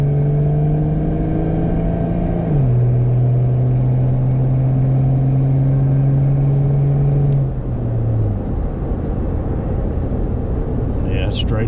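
An Arrma Limitless RC car, a brand new build fitted with a Delta Plastik FC100 body, drives down a road with a loud, steady motor whine that shifts pitch partway through and holds before fading.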